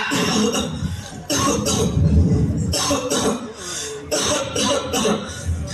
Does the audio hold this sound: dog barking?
no